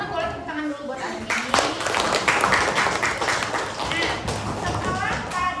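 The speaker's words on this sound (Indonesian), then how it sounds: "Teman-teman boleh tepuk tangan dulu buat Azmi" Classroom of students clapping for a classmate, a burst of scattered applause with some thumps, while a voice talks over the start and end.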